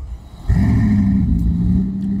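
A car engine in the Roblox game Driving Empire kicks in and revs steadily, a loud droning hum holding close and constant for a couple of seconds.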